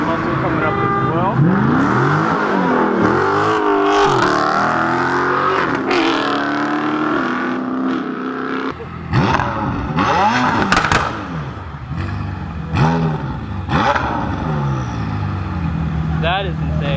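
A Corolla and an American muscle car accelerate on a race track, engines rising and falling in repeated loud sweeps as they pass, while people talk excitedly over the noise.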